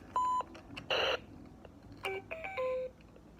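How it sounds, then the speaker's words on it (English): Electronic beeps from a LeapFrog Fridge Phonics toy: a short steady tone, a brief harsh buzzy burst, then a quick run of several pitched bleeps, close and clear in a quiet room. "you can make it beep"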